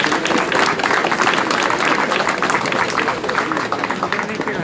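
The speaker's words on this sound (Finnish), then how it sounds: "Antakaapa vielä yhdet valtavat aplodit suorituksille" Dense applause fills the air at an outdoor market's firewood-splitting contest, many hands clapping steadily and fairly close, with voices talking and calling out through it.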